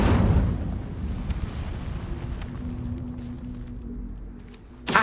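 Incendio fire spell cast in the PC game Hogwarts Legacy: a loud whooshing burst at the start that settles into a sustained low roar with a faint hum, ending with a sharp crackle.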